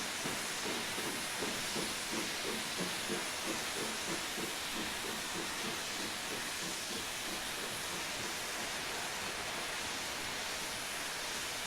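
A BR Black 5 steam locomotive shunting in Train Simulator, with a steady loud steam hiss and a faint rhythmic chuffing beneath, continuous throughout.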